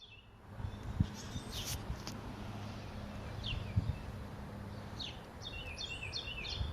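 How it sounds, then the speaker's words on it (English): A Carolina wren sings bright, rapid chirping phrases at a distance, repeating several times over a steady outdoor hiss with a couple of soft knocks. "I just wanted to wait till I heard that bird."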